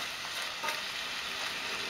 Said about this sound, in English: Just let the rice fry a bit and warm up.